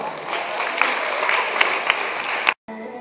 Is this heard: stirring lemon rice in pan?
no